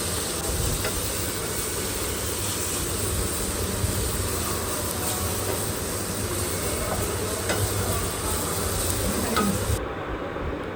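Garlic paste with turmeric, chili and cumin powders sizzles and fries in a pan for a pabda fish curry, a steady, soft crackling hiss that runs unbroken with no talking.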